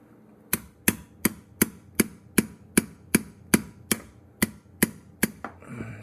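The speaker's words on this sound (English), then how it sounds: "So how I do it is take my chisel," A chisel is struck about a dozen times in a steady rhythm, each sharp close knock chopping through old wiring, followed by a brief rustle at the end.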